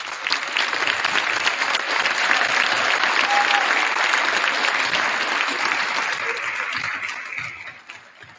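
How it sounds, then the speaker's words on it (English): Audience applause fills a gym during a ceremony at a girls basketball game between Mountain Lakes and Pequannock. The clapping is loud, dense and steady, then fades away near the end. "I would like to ask Russ to stand up for a round of applause."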